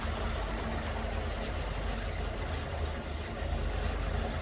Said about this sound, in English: Listen to that smooth flathead